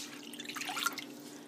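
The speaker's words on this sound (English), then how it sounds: "So we're just adding in our 2 cups of water." Two cups of water pour into a bowl in a kitchen, a brief close splash and trickle with a few drip-like spatters, no talking over it.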